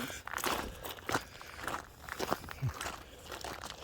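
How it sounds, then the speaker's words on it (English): Footsteps crunch on dry desert ground at a steady walking pace, close and gritty, with scuffs and crackles between steps and a little faint talk underneath. "I know in the videos you hear that crunching of the feet."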